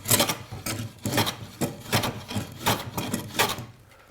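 Hand plane taking repeated shaving strokes along a wooden cap for a V-bottom skiff, worked on a bench made of three sawhorses; about seven rhythmic, rasping passes, close and fairly loud, with no talking.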